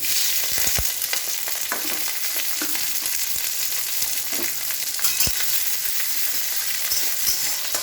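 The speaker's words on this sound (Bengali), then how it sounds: "ভালো করে পেঁয়াজটা ভেজে নেবো লাল লাল করে।" Onions frying in a pan make a steady, close sizzle with occasional sharp pops and crackles throughout, and nobody speaks.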